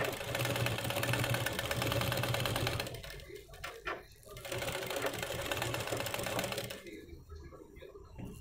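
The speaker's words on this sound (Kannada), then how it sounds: "ಸ್ಟಿಚ್ ಹಾಕ್ತಾ ಇದ್ದೀನಿ ಇಲ್ಲಿ" A sewing machine stitches an umbrella dress without lining, running in a steady fast whir that pauses briefly around the middle, then resumes and stops near the end.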